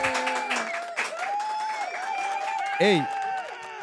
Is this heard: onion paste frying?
no